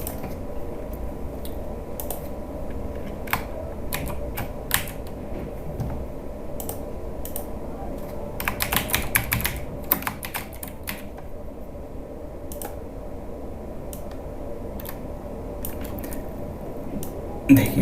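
Typing on a computer keyboard, with a steady patter of light key clicks and occasional louder taps running throughout, close and fairly quiet with faint background hum.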